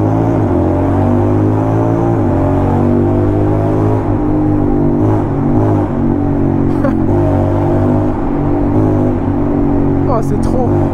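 Loud Honda X-ADV scooter exhaust on a Paris street at night, a steady droning engine note broken by sharp crackling pops like quickshifter gear changes, with voices talking over it throughout.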